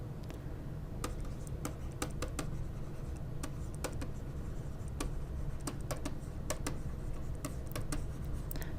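Pen or marker writing out a fraction math problem, with a steady series of light scratchy ticks and taps at an irregular rhythm, close and quiet, with no talk.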